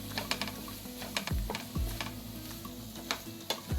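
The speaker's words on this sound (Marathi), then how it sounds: "यामध्ये भिजवलेली मुगाची डाळ गरम मसाला आणि शेंगदाण्याचा कूट टाका आणि याला व्यवस्थित मिक्स करून घ्या" A spoon stirs soaked moong dal, garam masala and peanut powder into a dry taro stalk curry in a pan, with a soft sizzle underneath and several sharp scrapes at uneven intervals.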